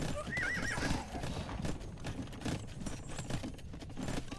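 Horse hooves clip-clop in a medieval strategy game match, with a whinny early on, over a dense busy game soundscape of clatter and ambient noise.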